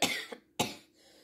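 Two short coughs from one person, close and fairly loud, the first a quick double burst and the second a single sharp hack, with quiet room tone between.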